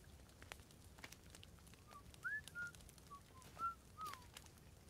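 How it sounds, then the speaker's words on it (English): A person whistles over voice chat while playing The Forest, a few short, clear rising and falling notes over quiet background noise, with no talking. "Are you guys whistling?"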